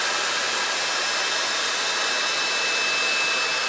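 A Xiaomi Dreame V9 cordless vacuum cleaner runs at its third power setting, giving a steady, loud, high-pitched motor whine and rushing airflow that holds constant for the whole stretch, with no talking.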